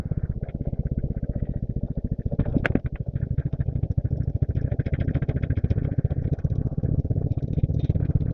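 Motorcycle engine on a rural road trip from Dhaka to Netrokona, running steadily with a dense, pulsing exhaust throb throughout, close and constant, with a brief sharper mechanical transient partway through.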